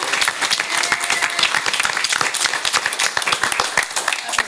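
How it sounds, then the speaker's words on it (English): A support group claps and applauds for several seconds, with dense, steady clapping from a small crowd indoors. "So let's give her a round of applause."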